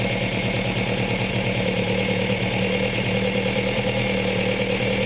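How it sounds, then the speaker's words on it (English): A steady, rumbling engine with twin Weber DCOE carburetors runs close by during carburetor tuning, holding a constant idle-like drone throughout with no clear rise in pitch. "you should start to hear the engine RPM increase"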